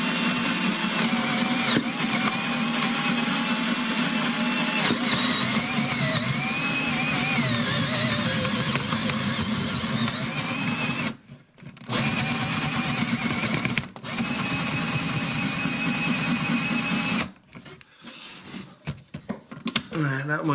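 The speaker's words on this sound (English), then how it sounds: "over here I just started a hole and I'm drilling in here" A power drill whines steadily and loudly as it bores into material, with brief pauses and restarts before stopping near the end.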